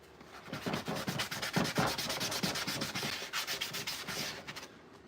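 An edge on a Proton Pack prop build is rubbed and buffed by hand in quick, rhythmic back-and-forth strokes, a close, soft scratchy rasping repeated steadily for several seconds.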